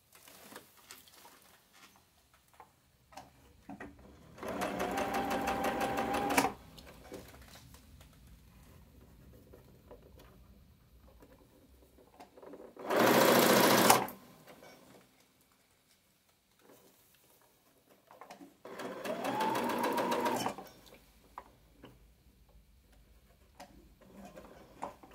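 A sewing machine stitches a set-in sleeve in three separate bursts, each a fast, even mechanical ticking. The middle burst is the shortest and sharpest, a quick back tack, and there are quiet pauses between them.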